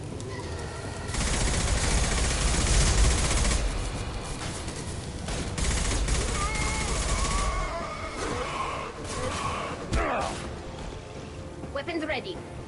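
Rapid gunfire bursts from combat in the Mass Effect 2 video game crackle loudly for several seconds, then fade into scattered shots and battle noise under intermittent voices.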